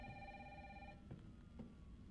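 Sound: telephone ringing in video game Resident Evil 3

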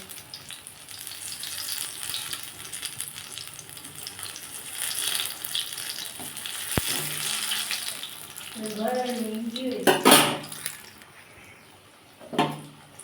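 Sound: pointed gourd fritters frying in a pan

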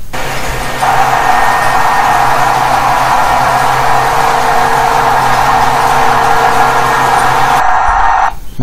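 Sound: fuelless generator running at full speed

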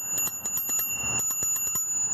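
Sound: bicycle bell ringing

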